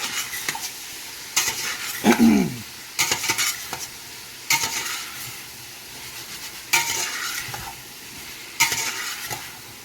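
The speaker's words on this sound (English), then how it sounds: "And then start sauteing that." Ingredients for Louisiana-style red beans and rice are sautéed in a pot, with a soft continuous sizzle broken by repeated scraping, stirring strokes of a spoon against the pot every second or two.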